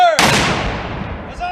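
A Civil War cannon fires at a historical reenactment weekend in Speedwell, New Jersey: one loud close boom with a long rumbling decay, faint voices at the very start and end.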